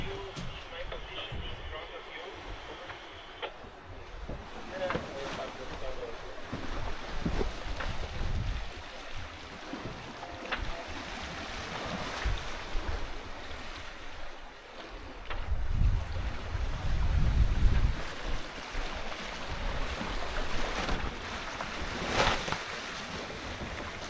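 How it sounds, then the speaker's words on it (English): Lagoon 51 catamaran sailing south toward Cape Verde on the Atlantic, with steady wind buffeting the microphone and washing waves around the hull, swelling louder near the middle before settling back. "Just sailing south to Cape Verde."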